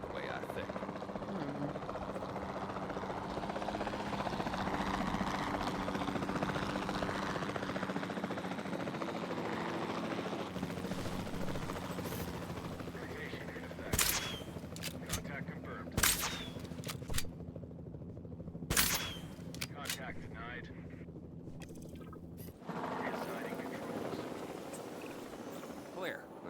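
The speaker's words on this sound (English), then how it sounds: "Then the sensible thing is to take a capture team helicopter." A capture team helicopter in Jurassic World Evolution 2 drones and thrums throughout, sustained and mid-distance, with several sharp loud bangs like tranquilizer shots partway through and people talking over it.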